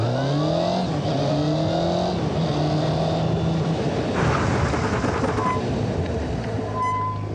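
A Honda motorcycle on an ABS training course accelerates hard through first, second and third gear, engine pitch climbing with each shift, before a firm stop under braking; loud and close, no talk.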